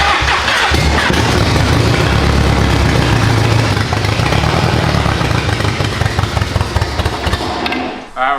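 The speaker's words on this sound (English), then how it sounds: "We're gonna start blipping the throttle, make sure all the sensors are reading, make sure the engine is running healthy" A V8 swapped into an abandoned Mercedes runs loud and close, its rough, uneven idle broken by throttle blips as it misfires and fails to fire cleanly on all eight cylinders.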